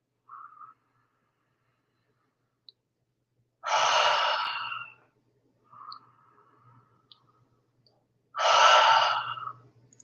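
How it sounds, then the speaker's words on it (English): Two slow, deliberate breaths in a guided breathing exercise, each a long, airy exhale of about a second, close to the microphone, separated by quiet pauses with faint softer inhales between. "that is the preliminary breathing to bring us to this moment right after you awake"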